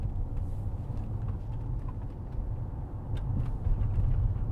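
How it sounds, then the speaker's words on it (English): A 2009 Mercedes-Benz E320 3.0 diesel drives along, its low engine drone and road rumble steady inside the cabin, swelling slightly louder toward the end. "Plenty of power in it, great diesel engine."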